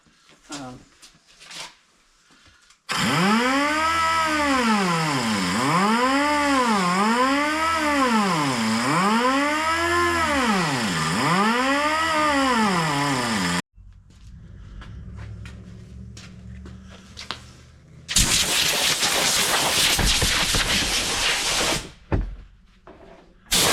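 Power sander with 40 grit abrasive grinding high spots, a loud whirring drone rising and falling in regular sweeps for about ten seconds, then quieter handling noises and a harsh burst of abrasive rasping near the end.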